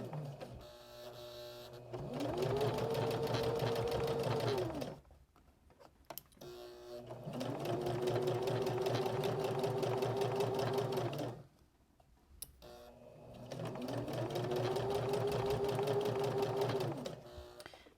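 Sewing machine stitching around a small denim keychain in three bursts, each a steady whirring run of rapid needle strokes that speeds up and slows down, separated by short quiet pauses, close and fairly quiet.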